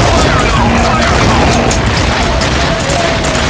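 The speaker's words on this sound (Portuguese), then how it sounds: "Já foi mais uma granada" A grenade explodes in the online shooter Sudden Attack during a tournament match, heard as a loud, sustained rumbling boom that fills the whole moment, with dense noisy game audio and talk underneath.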